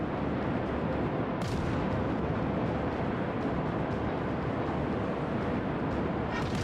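Warship guns firing in a naval battle game, heavy muffled booms blending into a constant roar of sea and engine noise, a few sharper cracks rising above the rumble.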